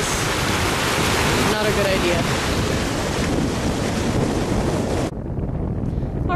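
Floodwater near Melville, Saskatchewan pours over a road like a waterfall, making a steady, loud broadband roar mixed with wind buffeting on the microphone. A person speaks briefly near the end.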